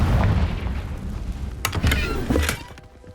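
Confringo blasting spell explosion in the video game Hogwarts Legacy, a loud deep boom with rumbling low end followed by a few sharp crackling impacts and debris clatter fading out.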